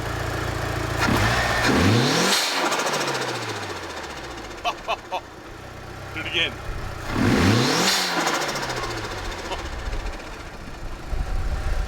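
Refurbished blow-off valve on a Mitsubishi Evo V engine, the engine revving up twice and each time venting with a sharp whooshing release as the revs fall, close and loud, with people talking over it.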